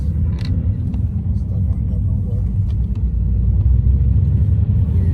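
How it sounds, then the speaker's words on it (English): A car driving home from church rolls along with a steady low engine and road rumble, close and continuous, with no clear speech over it. "So we're driving back home."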